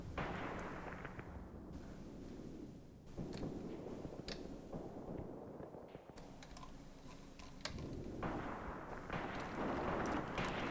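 Assault guns fire in the World War II tactics game Graviteam Tactics: Mius Front, a dense, rumbling wash of distant cannon and gunfire with repeated sharp cracks and booms over steady battle noise, and no voices.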